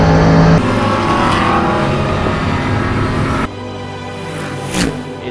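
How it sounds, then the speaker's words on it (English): A Bentley Continental GT race car in a British GT Championship round roars loudly on track, its engine note shifting abruptly partway through, with possible tire noise near the end. "I was racing a Bentley Continental GT"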